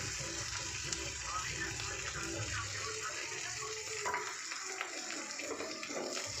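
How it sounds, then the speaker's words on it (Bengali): Crab being stir-fried in a pan with cumin, turmeric and Kashmiri chili powder, a steady soft sizzle and scraping stir running throughout under a constant hiss. "মশলা দিয়ে ভালো করে কষিয়ে নিচ্ছি"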